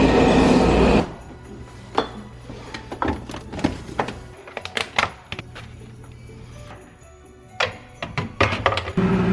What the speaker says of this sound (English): I'm catching the train from the station